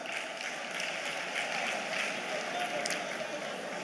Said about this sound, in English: Please, let's clap for her.